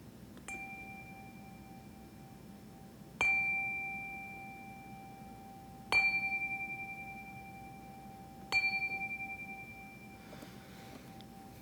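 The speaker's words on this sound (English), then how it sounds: "enter this moment with the ringing of our chime" Four separate chime strikes ring out at a slow, even pace during a Unitarian Universalist Sunday service, each one a clear bright tone that lingers and fades before the next.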